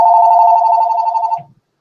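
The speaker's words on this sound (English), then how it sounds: "And excuse my phone, it's ringing." A phone rings during a town hall call, a single loud steady electronic ring tone lasting over a second up close, then cut off abruptly.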